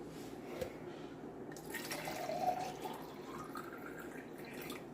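Water is poured into a child's drinking bottle in a home at night, a faint, brief trickle and fill sound with no voices nearby.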